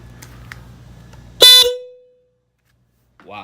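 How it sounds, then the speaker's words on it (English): A Hella Supertone horn fitted to a 2018 Honda Grom motorcycle gives one very loud, close, brassy blast of about half a second, cutting through a low engine rumble. Silence follows, then a brief voice. "I'm gonna start the bike up and test out this horn setup"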